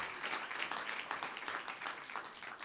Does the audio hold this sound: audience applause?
yes